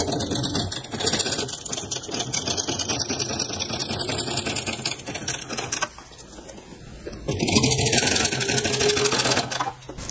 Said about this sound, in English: so now I can just go and stitch this